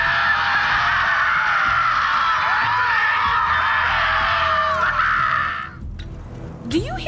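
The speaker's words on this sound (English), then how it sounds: "Do you hear screaming, or am I having another one of my episodes?" Sustained scream from a character in the Borderlands 3 video game, loud and continuous for several seconds before cutting off, followed by a brief rising cry at the end.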